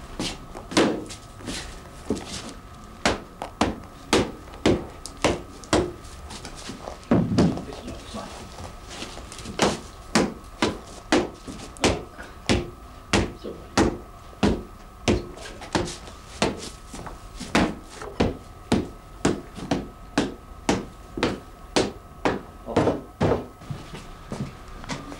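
A hammer strikes wood over and over while a traditional fishing net is shaped on a wooden net stick, sounding as sharp, evenly spaced knocks that go on steadily with brief pauses.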